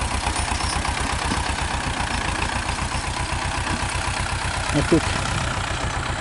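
A tractor engine idling steadily during haymaking, its rapid even chug continuous and close throughout, with someone briefly speaking over it near the start.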